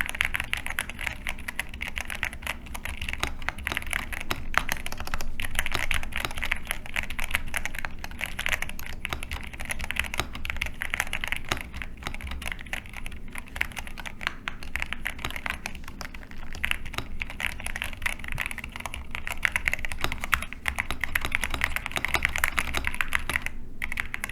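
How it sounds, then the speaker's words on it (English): Steady, fast typing on a GMK67 mechanical keyboard fitted with Milky Yellow switches, with dense, even key clacks close up for over twenty seconds and no talking. "time for a little type test"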